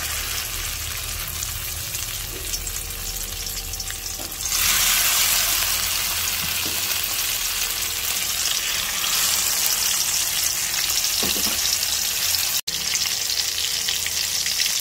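Eggplant omelette (tortang talong) frying in a pan, with a loud, steady sizzle that bursts in a few seconds into the clip and keeps going over a quieter kitchen background.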